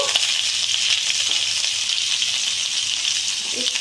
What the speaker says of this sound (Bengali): লবণ দিয়ে আমি একটু ভেজে নিচ্ছি